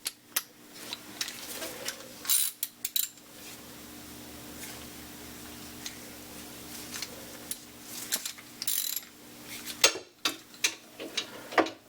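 A 3/4 inch socket wrench works on a part during lathe disassembly, giving close ratcheting clicks and metallic ticks in short bursts, with quieter spells between them and no talking.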